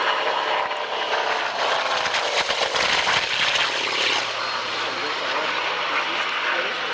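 Hawker jet aircraft passing at an airshow, a loud broadband engine roar that swells and shifts as it flies by, with a commentator talking over it throughout.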